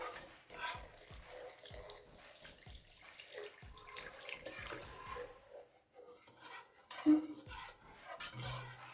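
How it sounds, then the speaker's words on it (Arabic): A spoon stirring béchamel sauce in a pot while milk is added bit by bit for a potato béchamel tray bake, with soft scraping and liquid sloshing running throughout and a brief clink near the end. "هلا بدنا نحرك ونحط الحليب شوي شوي"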